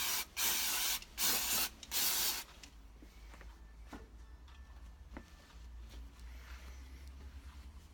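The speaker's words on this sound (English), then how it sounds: "a little bit of clutch and brake cleaner" Aerosol clutch and brake cleaner sprayed onto a Porsche 911 SC Targa engine during a rebuild: three loud, close hissing bursts in the first couple of seconds, then quiet workshop ambience with faint clicks and low hum.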